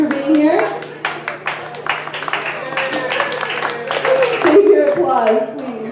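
Scattered audience clapping at a Show and Tell community event, quick overlapping claps heard beneath a person speaking close to the microphone.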